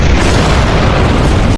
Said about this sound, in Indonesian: dengan sigapnya Atami mengikatkan sabuk itu pada sebuah bom yang siap meledak